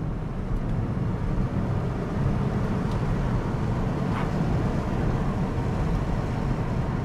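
Inside a Porsche 911 997.1 with a manual gearbox and the sunroof closed, a steady broad road and engine roar fills the cabin at cruising pace, constant and unbroken with no talk.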